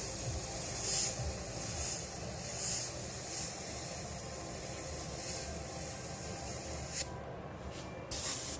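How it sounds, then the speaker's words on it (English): Steady airbrush spray hissing in pulses as white paint is sprayed onto a shirt, with a brief break and short bursts near the end; no talking. "I want all that air pressure to be used to spray that white through"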